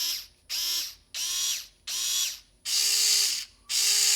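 A Vessel electric screwdriver from Japan whirs in six short bursts, starting and stopping with a high, grinding motor whine, the last runs longer and steadier.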